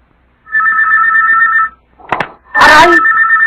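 A telephone rings with steady electronic tones in two bursts, a short gap with a brief voice-like sound between them, loud and close in a quiet room.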